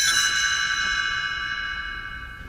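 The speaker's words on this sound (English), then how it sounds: "You will know it is time to turn the page when you hear the chimes ring like this." A single bright chime rings out as a page-turn cue for a read-along story, a clear metallic tone with shimmering overtones that slowly fades over a couple of seconds.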